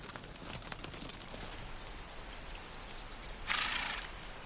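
A horse carries a rider along a prairie trail in the American West, soft hoof thuds and rustling sounding at a moderate distance under steady outdoor background noise, with a brief louder burst near the end.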